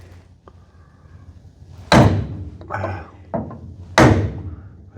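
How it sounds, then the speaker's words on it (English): A bigger hammer smacks a wooden block to seat a part on a Rampside pickup: two loud, sharp thuds about two seconds apart, with lighter knocks between them, and a brief spoken word early on. "I just used my block of wood and the hammer, a bigger hammer, and gave it one good smack"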